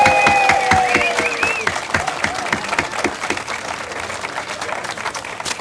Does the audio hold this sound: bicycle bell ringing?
no